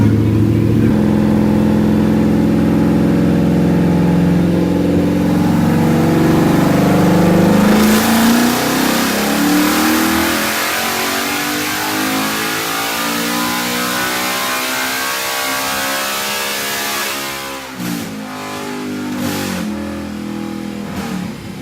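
A 2018-2022 Ford Mustang GT with its 5.0 V8 revs hard on a dyno, the loud engine note climbing steadily in pitch through a long pull to about 164 mph before lifting off and settling.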